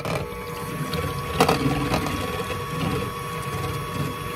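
An electric mixer whirs steadily as it beats whipping cream into peaks for a Reese's pie, a continuous mechanical hum with light rattling, close by and with no talking.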